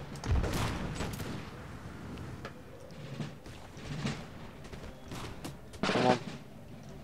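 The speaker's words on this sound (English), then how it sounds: "the firing started" Musket volleys from lined-up infantry in Empire Total War, a Russian army fighting in snow, several sharp crackling bursts spaced a second or so apart over a low battlefield rumble.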